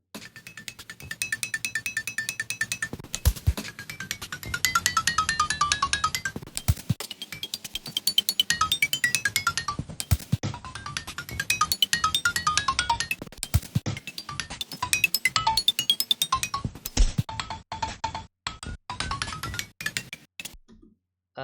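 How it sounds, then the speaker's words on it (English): An experimental musique concrète piece built from a phone recording of a clicking car button, with dense rapid clicks and metallic pulses in stuttering bursts, repeatedly cutting off and restarting over a long stretch. "That was just a phone recording of a interesting clicking sound"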